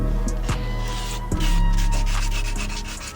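Brake caliper being sanded by hand with coarse 80-grit sandpaper, a loud, close, continuous scraping rub with repeated back-and-forth strokes and no talking.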